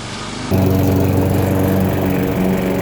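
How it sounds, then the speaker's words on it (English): Lawn mower fitted with a deep thatching attachment working through a Bermuda grass lawn, its engine starting up after a brief lull and then running steadily and loudly close by, with a strong low hum and no talking. "the deep thatching attachment allows me to get through the lawn fairly quickly"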